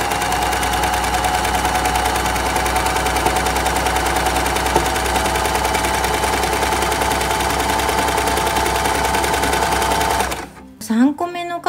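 An overlock sewing machine running fast as it sews a corner, a dense loud mechanical rattle for about ten seconds before stopping, followed by brief clicks and a voice.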